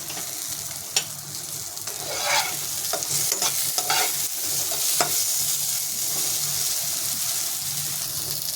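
Slender eggplant pieces frying in oil in a pan, a steady sizzle broken by scraping stirs and a few sharp clacks of a utensil, close and fairly loud with no talk.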